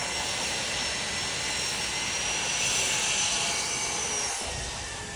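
A machine cutting steel rebar at a nearby construction site makes a loud, continuous broadband roar, steady and harsh for the whole stretch, with a slight swell in the middle.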